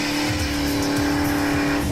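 A car's engine revs hard and steady for a tire burnout, a loud, dense roar held near maximum throughout, with a high squeal-like tone riding over the rough low growl.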